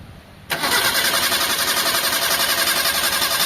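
A vehicle engine, fitted with a new fuel filter and fuel pump, cranks and catches after a short pause, then runs loudly and steadily at a fast idle close by.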